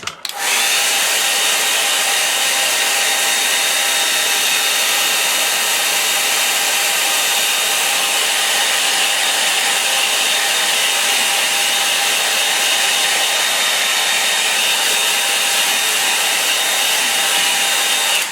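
A hair dryer blows steadily on a painting to dry wet paint, a loud continuous whirring roar that holds level the whole time with no talk.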